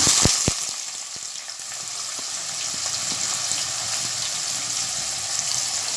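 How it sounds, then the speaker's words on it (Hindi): Chopped onions hit hot oil already holding whole garam masala for mutton masala, opening with a few sharp pops before a loud, even sizzle settles and holds. "अब मैं इसमें प्याज कटी हुई डालूँगी।"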